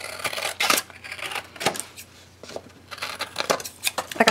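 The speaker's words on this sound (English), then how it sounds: "So what you want to do is you want to cut that flap off." Scissors cut the flap off a paper envelope while a scrapbook album is being made, giving a string of short, close snips and paper crinkles with brief pauses between cuts.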